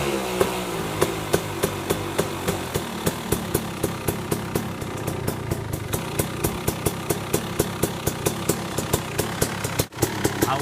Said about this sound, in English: I love me some 250 two-stroke sound